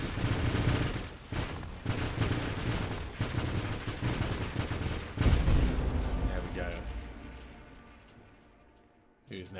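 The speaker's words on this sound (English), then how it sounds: "Just throw some missiles as I pass through." Missiles launch in the space shooter Nova Drift as a loud, continuous barrage of rapid blasts and booms, punctuated by heavier hits, tailing off toward the end while someone talks over it.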